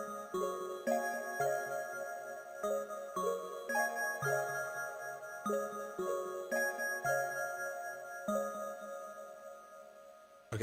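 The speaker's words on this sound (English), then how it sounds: "it kind of sounds like really nice, like a chime kind of sound" A chime-like sine synth with a pitch envelope plays a repeating pattern of short, bell-like notes at an even pace, quiet but clear and unaccompanied by voices.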